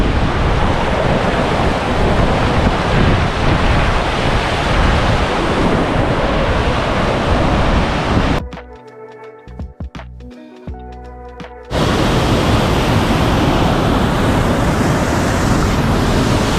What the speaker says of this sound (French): On est enfin arrivé au début de la cascade avec Ella.